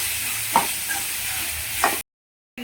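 Onions and tomatoes sizzle softly in a pan for a bitter gourd gravy, with a couple of distinct spatula scrapes over the steady frying hiss before the sound cuts to silence.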